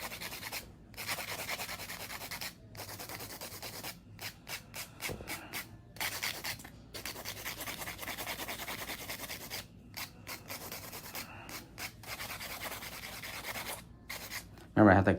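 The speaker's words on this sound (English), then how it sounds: "Now I'm gonna go through and do a little bit of hand filing." A hand file rubs back and forth across fingernails, shaping coffin-shaped acrylic nails with a clear protective coat over a neon pink ombre, a close, steady rasping broken by short pauses between strokes.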